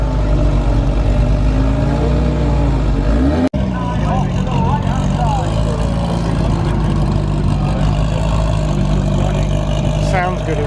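The engine of a Kimera EVO37 race car in Martini colours runs loud and close at the Goodwood Festival of Speed, a constant mechanical roar with someone talking over it.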